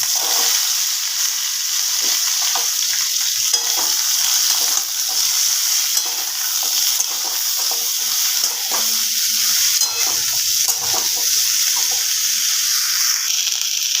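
Winter vegetables dropped into hot oil already crackling with panch phoron and dry red chili, producing a continuous close sizzle with faint scattered clicks and stirring, running steadily with no voices.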